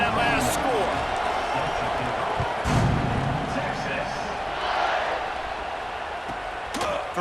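A stadium crowd buzzes in the EA Sports College Football 26 video game, a dense steady roar of many voices after a score, with game commentary over it and occasional dull thuds.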